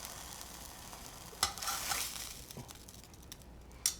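Food warms in a buttered pan with the heat off, making a soft, faint sizzle with a brief louder hiss and a couple of sharp utensil taps, with no voices.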